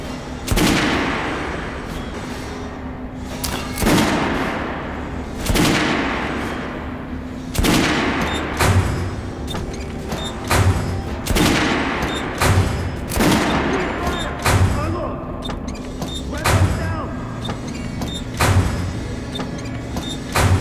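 Kalash assault rifle gunfire rings out in the video game Metro: Last Light Redux. Loud, close single shots come spaced a second or two apart, then settle into a faster, regular run of shots.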